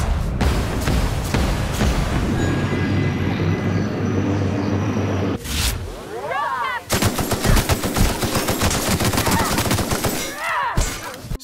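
Gunfire in The Outer Worlds comes as loud, rapid bursts and rattling volleys of automatic fire, broken by a short lull with whooshing effects before the shooting resumes.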